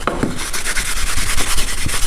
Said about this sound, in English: rub that to get it smooth.